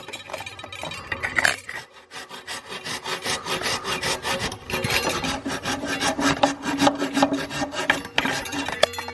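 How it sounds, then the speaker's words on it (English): Hand hacksaw cutting through the turbo inlet piece of a BMW N54 engine, the snout slid back onto the turbo, giving steady back-and-forth rasping strokes, close and fairly loud, with no talking. "I am just going to use a hacksaw."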